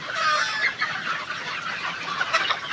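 A flock of farm chickens, ready for market at about 58 days old, clucking together in a dense, continuous chorus of overlapping calls that rises and falls without a break.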